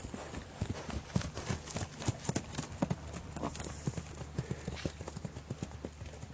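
A horse ridden on a loose rein during a riding lesson clip-clops in a steady, even walking rhythm, hooves striking close and distinct over a low background hum, with a voice heard faintly now and then.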